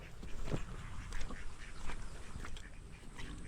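Ducks quack repeatedly outdoors, several nasal calls at moderate distance over a noisy background, with no speech.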